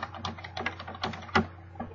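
Keys on a computer keyboard are tapped in quick, uneven bursts, each click crisp and close, with one louder stroke standing out partway through and no talking.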